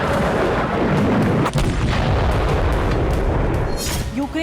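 Heavy artillery-like booms and blasts from Russian bombing in Ukraine, a dense continuous barrage of deep rumbling explosions with sharper cracks, loud and sustained, with faint voices mixed underneath.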